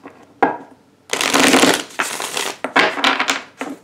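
A deck of tarot cards is shuffled in several quick riffling bursts, close and crisp, with short pauses and a sharp tap between them.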